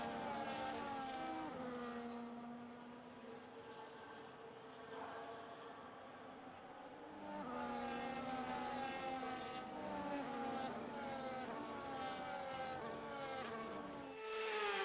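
Race cars on a formation lap before a race in Australia, engines droning and whining at a steady pitch, rising and falling as they pass at moderate distance.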